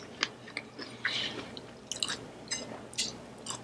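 Close, wet chewing on a scallop at a seafood-boil feast with king crab and prawns: soft squishy bites and smacking in an uneven rhythm, quiet and intimate, no talking.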